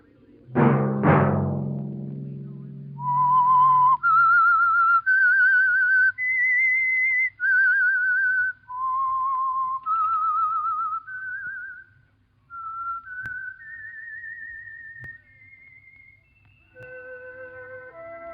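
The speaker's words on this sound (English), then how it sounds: "Let that whistle be your signal for the Signal Oil program, The Whistler" Whistled theme tune of The Whistler, a mystery radio drama sponsored by Signal Oil: a clear solo melody of sustained whistled notes rising and falling in steady phrases, heard alone after a brief low thump at the start.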